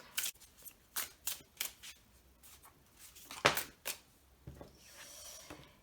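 Tarot cards are shuffled and drawn by hand, giving soft, close snaps, flicks and riffles in uneven bursts, with a quiet rustle at the end.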